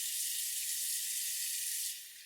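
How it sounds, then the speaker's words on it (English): Cold water running steadily from a tap while a razor is rinsed under it in a bathroom, a constant close hiss that thins out near the end, with no talking. "Rinse this back off with some cold water."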